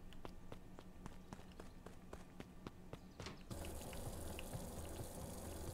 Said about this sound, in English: I have left the water running still, whoops.